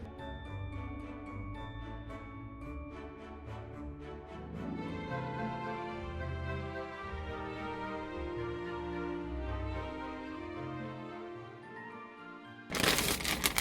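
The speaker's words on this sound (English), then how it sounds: "So I'm gonna fold this up." A brown paper grocery bag being folded up, giving a steady run of crinkling and rustling paper close by with no talk, ending in a brief louder crackle.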